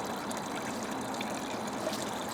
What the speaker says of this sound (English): So that water's been running over there since 1941 is when they did the testing.